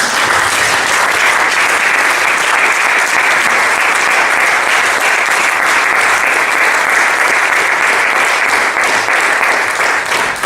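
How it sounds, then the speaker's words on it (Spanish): A church congregation applauds the Lord during a sermon, producing dense, loud, sustained clapping that fills the space evenly for the whole stretch without letting up. "¿Cuándo podemos dar un aplauso al Señor?"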